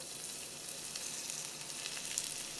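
Chopped garlic frying in about two tablespoons of hot oil for caramelized Vietnamese pork spare ribs, a steady close hiss and crackle with no talk.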